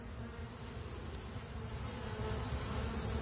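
A honeybee swarm buzzes densely around a queen cage, a continuous close, loud hum of many wings, steady throughout with no voices.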